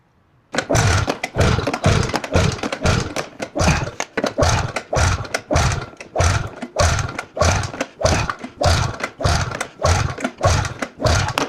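An old snowmobile engine firing and sputtering, a rapid run of loud, evenly spaced chugging thumps close by that keeps going for several seconds after a brief quiet start.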